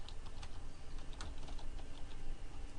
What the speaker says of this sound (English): The text cast member lets you drag out a text box and then type the text directly